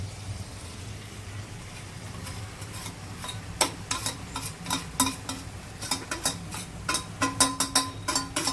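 Paneer goes into a sizzling gravy for paneer bhurji. A soft, steady fry hiss starts quietly, then turns into many quick spatula scrapes and clicks against the pan as it is stirred.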